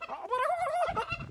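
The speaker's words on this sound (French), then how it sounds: "Ça, c'est le dindon." A hungry, unhappy turkey on a farm lets out one loud, close gobble, a rapid warbling rattle lasting about a second.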